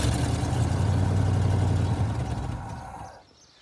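A Ford F-150 truck engine, coaxed into running with starting spray, runs with a steady low rumble for about three seconds, then winds down and fades sharply near the end.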